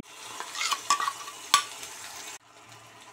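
Tomato paste frying with golden-brown, softened onions in a pan over low heat, giving a steady close sizzle with stirring scrapes and a couple of sharp clinks, then dropping abruptly to a quieter simmer.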